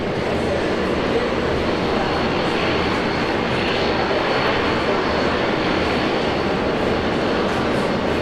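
An airliner takes off from Brisbane Airport, producing a loud, steady roar of jet engines. The broadband rumble stays constant throughout with no break.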